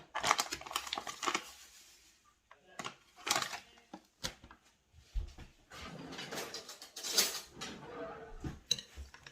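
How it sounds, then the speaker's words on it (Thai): A wild garlic kimchi mixture being stirred in a bowl, with irregular clinks, scrapes and clatter of a utensil against the dish, fairly soft and close, with some faint vocal sounds in places. "คนส่วนผสมให้เข้ากันนะจ๊ะ"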